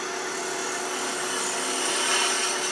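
A wooden wheelie bug pull toy spins on a wood lathe as its front is rounded into a big bead, giving a loud, steady, rushing whir with a faint tonal hum throughout.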